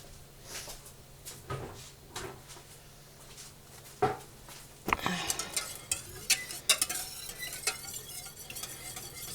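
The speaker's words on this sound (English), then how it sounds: "what I'm doing here is melting my drippings, and we are going to make some gravy." Turkey drippings are melted and stirred in a pot to make gravy, with quiet scraping, irregular utensil clinks and knocks against the metal, and a faint sizzle, growing busier in the second half.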